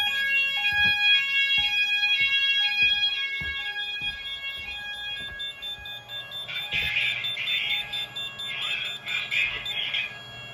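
An addressable fire alarm system sounds during a test in rapid repeated beeps, then a shriller pulsing alarm tone joins in, loud and close.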